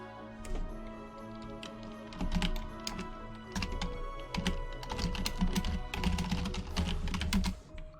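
Keystrokes on a computer keyboard, quick irregular clicking taps near and fairly quiet, coming in short bursts with brief pauses, alone without talk.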